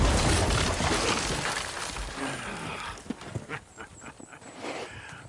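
Horse hooves clatter and thud in a busy, noisy mix in the video game Red Dead Redemption 2, with scattered hoof strikes standing out toward the end.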